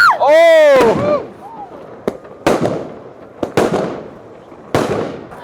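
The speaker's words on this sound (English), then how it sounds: "So here's some fireworks just for you guys." Fireworks go off at night in Chaozhou, China. A shrill rising whistle opens, followed by a string of four or five sharp, loud cracks and bangs spaced about a second apart, each trailing off quickly.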